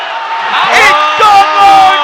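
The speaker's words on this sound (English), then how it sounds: "The crowd goes absolutely wild." Crowd erupting in wild cheers and whoops as Malaysia clinch a sepak takraw match point win over Thailand at the ISTAF Super Series, loud and sustained in surges, with shouting voices mixed in.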